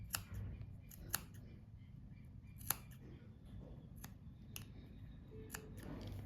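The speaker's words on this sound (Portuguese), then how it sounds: "Faço assim uns piques em toda a volta dele, só que não pode cortar a costura." Scissors snip notches around the seam allowance of a sewn cushion cover in a few sharp, separate cuts spaced a second or so apart, close but quiet over a low room hum.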